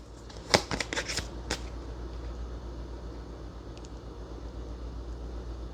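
Tarot cards riffled and shuffled in a few quick bursts early on, followed by a quiet steady hum with no speech.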